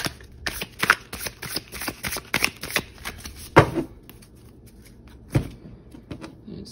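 Tarot cards shuffled by hand, a run of crisp riffling flutters and soft slaps close up, with a sharper burst of card noise midway and a lone snap near the end.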